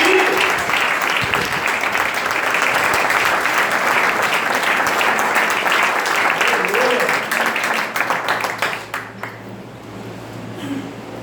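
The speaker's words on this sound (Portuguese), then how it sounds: "aplaude a Ele" A church congregation applauds steadily during an evening service, a dense, loud wash of clapping that holds for several seconds, with a voice speaking over it before the applause fades out near the end.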